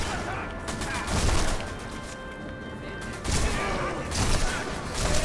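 Gunfire from the Sniper Elite V2 Remastered video game, repeated shots and crashes in bursts across a busy battle mix, with a voice talking over parts of it.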